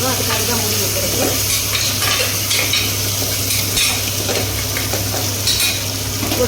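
Tomatoes frying and being stirred in a pan for tomato rice: a steady close sizzle runs throughout with scraping stirs and light utensil clinks, a low hum underneath, no talking.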